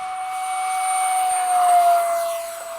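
A Freewing 70mm F-35 model jet takes off with a loud, steady high-pitched turbine whine that swells and slightly shifts in pitch as it passes, heard alone outdoors at an airfield.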